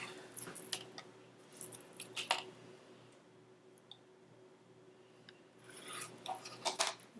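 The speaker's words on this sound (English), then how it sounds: "Let me just cut off the selvage first." Scissors cut the selvage edge from a piece of fabric for a clutch wallet: soft, close snips and rustles in two short bunches, fairly quiet against a faint background hum.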